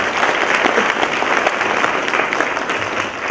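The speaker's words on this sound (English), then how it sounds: "Give them another round of applause." Audience at a Martin Luther King Jr. convocation applauding, a dense sustained round of clapping close and loud for the whole stretch.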